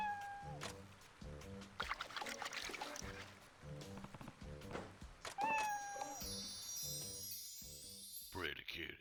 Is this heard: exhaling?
no